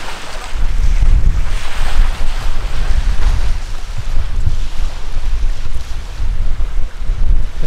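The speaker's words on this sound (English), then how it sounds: "I know it's windy." Strong, steady wind roars and buffets continuously at the seashore by Conference House Park, with deep rumbling gusts pressing on the microphone and no voices.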